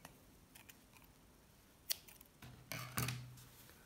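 Scissors snip off excess thread during sewing, a few close, faint cuts building into louder clipped snaps near the end, alone in a quiet room.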